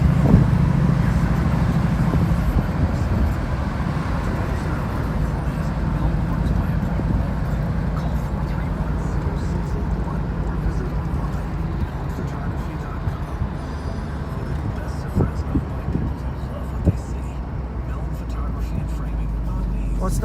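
A Mercury Cougar XR7 convertible cruises on the freeway, its steady engine and road roar running continuously and fairly loud with wind and traffic noise, no talking over it.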